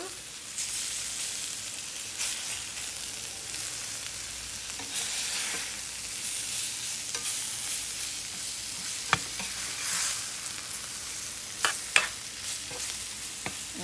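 Summer squash fries in a pan with a steady sizzle for the whole stretch, while a utensil stirs and scrapes it, adding a few sharper clicks and knocks near the end.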